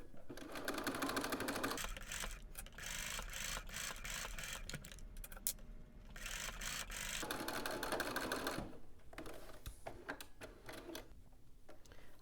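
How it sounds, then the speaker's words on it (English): A home sewing machine with a zipper foot stitches along fabric piping in a few long running bursts broken by short pauses, fairly faint and close. "You want to make sure that you're hitting right at the stitches on your piping, and I'm using my zipper foot."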